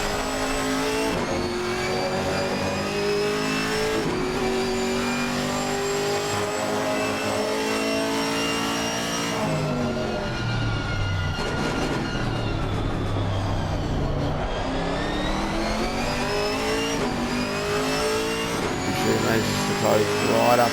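Camaro and McLaren GT4 race cars in Assetto Corsa Competizione, engines droning and shifting through gears on a circuit, with overlapping revs, downshifts under braking and steady loud engine noise throughout, commentary voice underneath.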